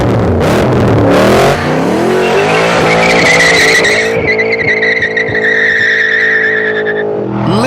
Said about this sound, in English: This car has one of the world's great engines, a big, gurgling V8 with huge torque and an even huger thirst.